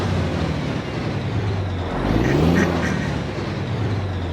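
A heavy Mack truck engine in American Truck Simulator idles with a deep, steady rumble, rising briefly in the middle as it revs, then settling back to a constant drone.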